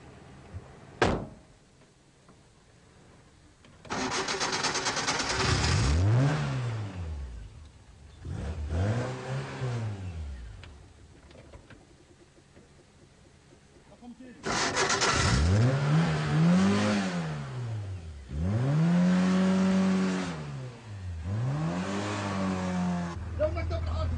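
A car engine revs again and again during a driving lesson, a husband teaching his wife, each rise and fall close and loud, with stretches of idle and people talking in between.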